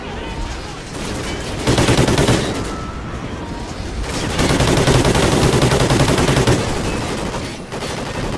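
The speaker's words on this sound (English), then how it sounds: "Wait, are they the only people shooting at us? I'm getting shot from every direction possible." Call of Duty Ghosts gunfire crackles in sustained automatic bursts, swelling loud around two seconds and again from four to seven seconds, with a dense battlefield din and no clear talk.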